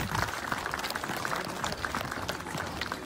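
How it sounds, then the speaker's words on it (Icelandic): An outdoor crowd at an Icelandic horse festival claps for the riders, a sustained, even patter of many hands without a break. "Gefum gott klapp."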